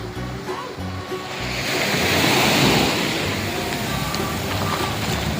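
Morning ocean waves roll onto Kung Wiman beach in Chanthaburi, a broad, steady surf wash that builds and then holds at a fairly loud level.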